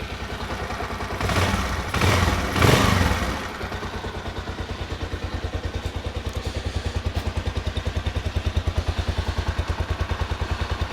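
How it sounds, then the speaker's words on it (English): A small motorcycle engine idles steadily with a fine, even ticking beat, quiet exhaust note, after a few louder bursts of clatter and handling noise near the start. "so it runs like a little sewing machine. They're good little engines,"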